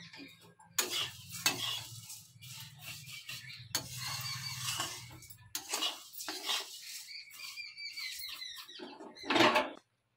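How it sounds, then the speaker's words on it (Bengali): Vermicelli fries and is stirred in a pan, with repeated scraping strokes of a utensil against the metal and a soft sizzle between them, near and alone, ending in a brief clatter. "সিমাইটা আমার ব্রাউন কালার করে আমি ভেজে নিয়েছি।"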